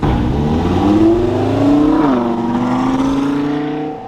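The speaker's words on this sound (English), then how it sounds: "I don't get to hear my car often from the outside, so it's cool to hear it." A 1965 Ford Fairlane's engine revs in sport mode, a loud, close, sustained growl whose pitch climbs and dips and climbs again before easing off at the end.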